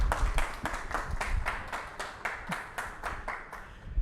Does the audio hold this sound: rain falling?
no